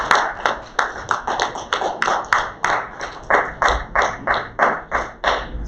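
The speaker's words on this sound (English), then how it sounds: "Let's give a loud clap for yourselves." Audience hands clap in a steady, fairly close rhythm at a 15th of Shaban community celebration, about a dozen distinct claps over several seconds, with faint voices in the background.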